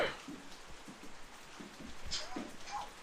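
Soft, steady patter of rain falls throughout, fairly faint, with a few brief louder bursts and muffled background sounds.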